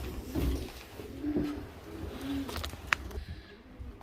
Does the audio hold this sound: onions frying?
no